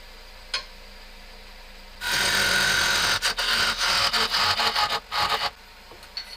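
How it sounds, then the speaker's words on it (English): A square-tipped scraper cuts a wooden birdhouse finial spinning on a lathe, giving a steady scraping rasp that starts abruptly after a quiet lead-in, then breaks into short, uneven bursts, close and fairly loud. "Easy Wood Tools square tipped scraper, and let's get that."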